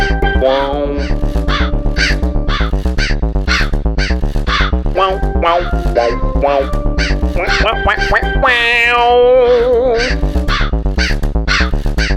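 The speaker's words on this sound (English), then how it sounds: "I'm messing around with crow sounds." Crow caw samples looped inside live-coded Strudel electronic music, repeated rhythmic caws over a steady pulsing beat and tonal synth lines, loud and continuous, with a warbling pitch sweep near the end.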